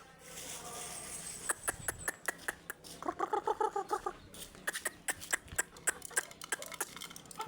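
Four-month-old chickens feeding at a boarding house, giving soft clucks and a quick run of pecking taps close by, with some quiet background sounds.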